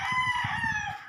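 Chickens in a small backyard coop, with sustained crowing and clucking layered over steady low cackling, close and fairly loud with no pauses.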